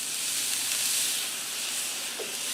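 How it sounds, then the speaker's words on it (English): Water hits a hot griddle beside broccoli and steams with a loud, steady hiss and sizzle, close by and uninterrupted. "So let's get this broccoli steaming. So we'll put some water on there."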